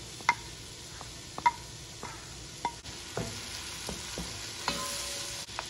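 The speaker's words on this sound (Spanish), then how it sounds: "Vamos a poner la mantequilla. Le voy a agregar la cebolla de una vez." Onion frying in butter in a large soup pot, a soft steady sizzle with several sharp spoon knocks and scraping stirs spread across the stretch, fairly close and moderately quiet, no voices.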